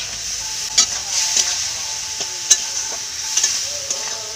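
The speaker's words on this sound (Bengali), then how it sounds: "ভালো করে নাড়াচাড়া করে নিব।" Masala of chilli, turmeric and cumin powders with chopped tomato fries in a pan, a steady close sizzle punctuated by several sharp stirring scrapes at irregular intervals.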